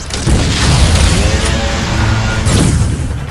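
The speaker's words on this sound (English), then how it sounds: "Sam, I'm authorizing missile use!" Missile fire and explosions from the video game Metroid: Other M, loud, dense booming blasts that rumble continuously, with a sharp fresh burst near the end.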